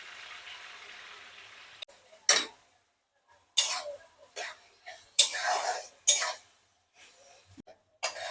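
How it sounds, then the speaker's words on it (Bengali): Onion paste with a little sugar goes into hot oil, a soft frying hiss followed by several sharp, close clatters and scrapes of a utensil in the pan. "তেলটা গরম হয়ে গেছে, এবার আমি পেঁয়াজ বাটাটা দিয়ে দিচ্ছি।"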